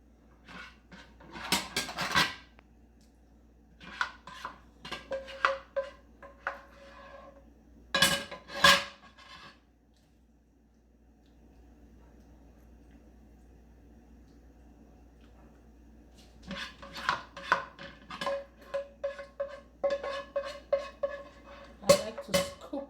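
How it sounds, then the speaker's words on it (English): Metal utensils scrape and clink against a pan as the remaining pasta sauce for lasagna is transferred out. Clustered bursts of clatter come close and clear, separated by a quiet pause midway. "I'm gonna now transfer the remaining pasta sauce I have in here"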